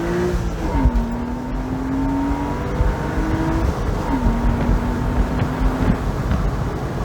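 A car pulls away hard in first gear, the engine note climbing steadily for a few seconds, then dropping and climbing again on a second run, close and continuous under steady wind rumble.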